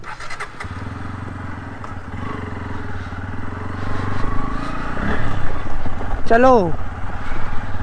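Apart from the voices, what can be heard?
Bajaj Pulsar N160 motorcycle riding on off-road track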